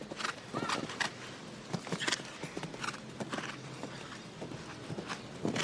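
Show-jumping horse at a Nations Cup competition at La Baule, its hooves clip-clopping in a steady rhythm across the arena with a brief whinny, while a commentator talks over it.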